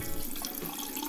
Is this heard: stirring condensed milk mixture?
no